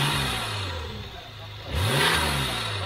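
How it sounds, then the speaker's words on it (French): A V6 car engine, a tuned youngtimer, idles roughly and then revs hard under heavy throttle, its pitch rising and falling in a loud, close surge with some clatter. "Là on n'a plus les coupures sur les grands coups de gaz."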